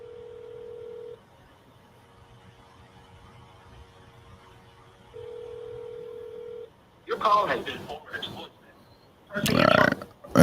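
A phone call rings through, with a steady ringback tone pulsing twice between quieter stretches. A person then speaks close to the microphone, loudly and in bursts.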